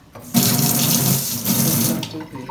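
Water gushes from a hotel bathroom sink faucet, a loud steady splashing rush that starts abruptly, runs for about two seconds, then cuts off.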